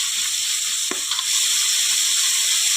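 Chopped vegetables frying in a pan for masala chitranna, a spiced rice dish: a loud, steady close sizzle with a brief clatter of stirring about a second in.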